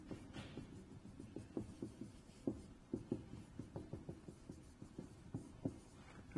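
Pen or marker scratching across a surface while math is written out by hand, a steady run of short, soft strokes and taps close by, with no talking.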